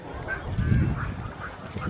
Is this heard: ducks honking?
yes